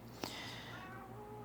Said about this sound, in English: I hear a kitty somewhere.